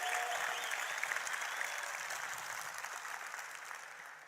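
Audience applause from a crowd at a talk, a steady broadband clapping that holds at a fairly even level for several seconds before tapering slightly.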